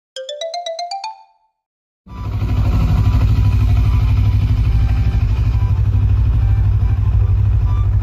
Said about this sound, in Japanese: しんどいからバイクで行こう。